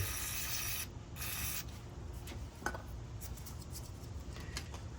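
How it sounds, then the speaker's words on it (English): A steady close hiss of WD-40 aerosol spray into a Jeep Grand Cherokee front wheel hub runs almost continuously, with a brief pause and a few small clicks and taps partway through. "Just gonna spray some more WD-40 inside."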